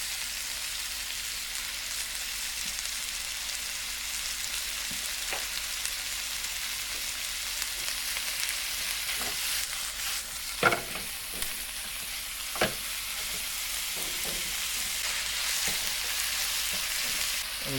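Chicken and mushrooms with softened onion fry in a pan with a steady, even sizzle, broken now and then by soft knocks and scrapes of stirring.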